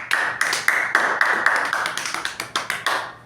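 Several people clap together in a short, even burst of applause lasting about three seconds, with sharp, regular, close-sounding claps and no talking.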